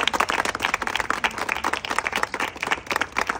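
An audience at an award felicitation event claps repeatedly, a lively, dense patter of many hands held at steady loudness for a few seconds.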